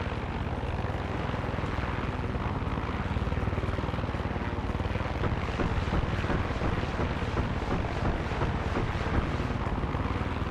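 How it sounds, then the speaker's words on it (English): A faulty airplane's engine in the Far Cry 6 video game drones as a loud, steady, rough roar with a buzzing propeller texture, continuous throughout without a break. "They gave me a faulty airplane. It's just shutting off."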